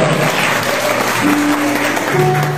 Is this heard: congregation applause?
yes